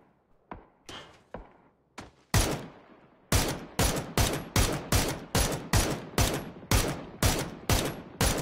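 Gunfire in the video game PUBG begins with several sharp single shots spaced apart, then breaks into a rapid, evenly paced string of loud rifle shots, close and dry with no talk.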